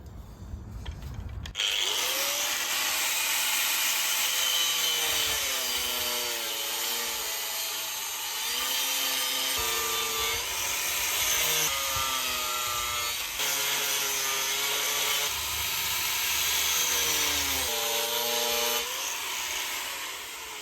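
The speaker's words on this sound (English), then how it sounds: "I might even just run the handsaw down those holes there just to make sure this definitely comes out as we want it" A handsaw works through a thick wooden slab being cut into a chair part, with steady close back-and-forth rasping strokes and a rising and falling whine that repeats for many seconds.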